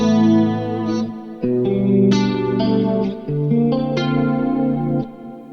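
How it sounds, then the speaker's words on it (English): An electric guitar runs through an 80s rack chorus preset on a Neural DSP Quad Cortex, playing shimmering sustained chords that change every second or so, loud and close with a wide, swirling modulated tone. "So I'm going to play the 80s rack chorus."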